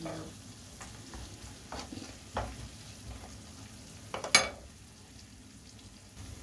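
Garlic frying in a pan, a quiet steady sizzle with a few stirring scrapes and one sharper clatter near the end.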